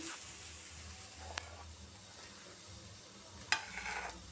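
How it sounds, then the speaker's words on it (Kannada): Chopped onions sizzle steadily in hot oil for tempering mutton chops, a constant crackling hiss broken by a couple of sharp utensil clicks near the pan. "ಸ್ವಲ್ಪ ಎಣ್ಣೆಯಲ್ಲಿ ಫ್ರೈ ಮಾಡ್ತೀನಿ"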